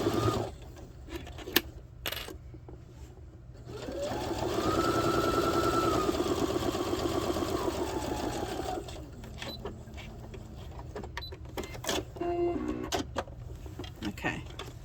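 A sewing machine stitches a children's wallet along a zipper edge in one steady buzzing run of about five seconds, framed by quieter handling clicks and fabric rustles before and after.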